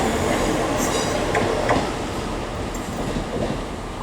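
A train pulls out of Leeds station toward Sheffield with a loud, continuous rolling rumble and faint rail clatter, heard close and steady throughout.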